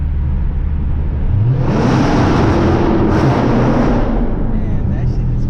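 A Dodge Hellcat engine with a muffler delete revs loud and close, a broad roaring exhaust that rises and swells over several seconds, with wind-like noise throughout.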